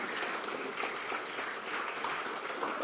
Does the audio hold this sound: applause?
yes